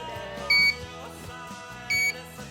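A soil moisture sensor's buzzer signals dry soil with two short, loud electronic beeps about one and a half seconds apart, sounding over steady background music.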